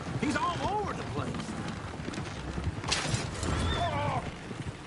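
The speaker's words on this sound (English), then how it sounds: "Oh, shit, the horses! Damn horses!" Horses whinnying repeatedly with hoof clip-clop in a Red Dead Redemption 2 game scene, near and lively, layered over busy background activity and voices talking.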